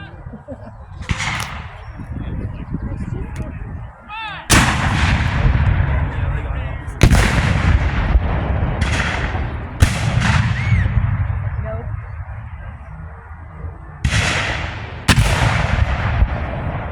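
Heavy cannon blasts boom one after another at uneven intervals at an outdoor Civil War battle reenactment at Old Bedford Village, each sharp report followed by a rolling echo, with crowd noise between shots.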